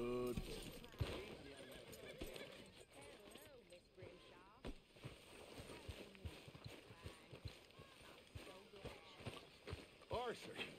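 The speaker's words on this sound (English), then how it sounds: "Go ahead and hitch our horse." Hooves clip-clop rhythmically while a horse in the video game Red Dead Redemption snorts and whinnies, with voices talking over the steady trotting.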